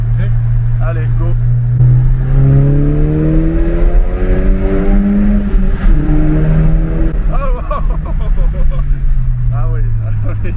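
A VW Golf 7 GTI engine revs and accelerates through a tunnel, its rising tone climbing steadily and loud inside the cabin, with a French-speaking voice over it at the end.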